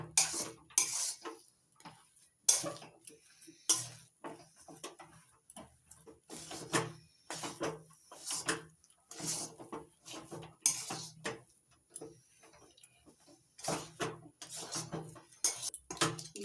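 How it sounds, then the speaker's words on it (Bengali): Stirring semolina dough in a pan over a low gas flame, with repeated scraping and clanking of a utensil against the metal at an uneven, steady working rhythm, close and alone. "ভালো করে মিশিয়ে নেব নাড়াচাড়া করে।"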